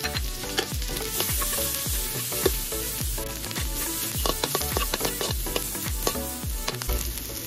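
Garlic and onion fry in a pan for a pork and shrimp dish with banana blossom and glass noodles, giving a steady close sizzle broken by repeated scraping stirs and utensil knocks, with no voices.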